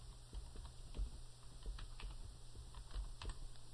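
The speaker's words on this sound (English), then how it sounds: "so I'm going to type that in" Fingers tap on a computer keyboard in a quiet room, a soft, fairly steady patter of close keystrokes with a few slightly heavier presses, no speech.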